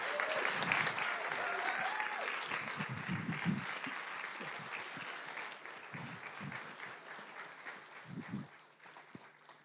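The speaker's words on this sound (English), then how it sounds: "A warm applause for Stephanie Kelton" At a tenth-anniversary keynote event, the audience gives warm applause welcoming economist Stephanie Kelton, a steady, moderately distant roll of clapping with faint crowd murmur and some low voices that slowly tapers off.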